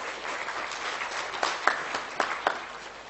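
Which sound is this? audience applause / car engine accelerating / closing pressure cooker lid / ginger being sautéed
audience applause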